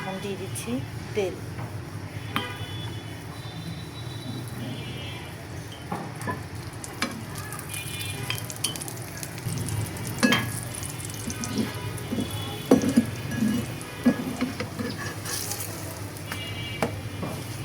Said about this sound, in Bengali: অলরেডি আমি ভাজা শুরু করে দিয়েছি।